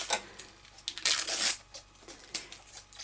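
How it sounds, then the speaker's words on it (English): Backing material being torn away from sewn vinyl faux leather, a close, papery ripping in several short bursts with the longest pull in the middle, no talk. "And then you just come back and you can just simply tear this off."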